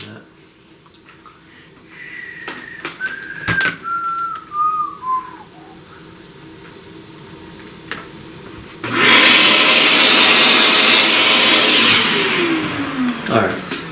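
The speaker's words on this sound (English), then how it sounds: "let's vacuum that." A vacuum cleaner switches on partway through and runs loudly with a steady whine, lifting loose pastel dust off a pastel flower drawing, following several seconds of sliding whistle-like tones and clicks.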